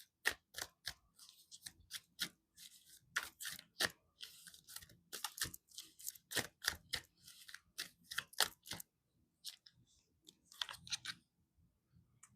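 Rapid, crisp snapping and riffling bursts of a large deck of cards being shuffled, close up, in quick irregular runs with short pauses and no talking.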